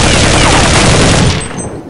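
An object blown up in the Counter-Strike video game gives a loud, dense blast of crackling gunfire-like noise that holds steady for over a second and then tapers off.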